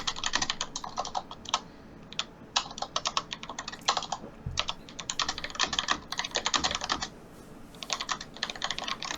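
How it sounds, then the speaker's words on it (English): Fast, clattering keystrokes on a loud computer keyboard come in uneven bursts with brief pauses, close and sharp throughout. "Man, your keyboard is loud."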